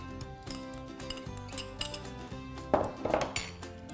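Coconut and banana are stirred with melted jaggery in a pan, a spoon scraping and clinking against the metal in uneven taps and scrapes, close and fairly soft, with no voices.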